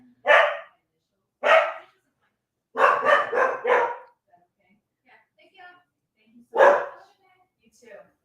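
A dog barks several times, two single barks then a quick burst of four, a pause with faint sounds, then one more bark.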